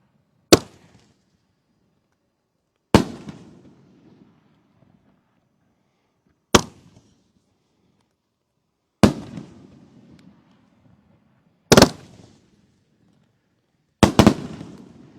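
Large-diameter firework cakes firing 3-inch shells at a night show, six loud, sharp booms spaced a few seconds apart, each trailing into a rumbling decay, the last two coming in quick succession.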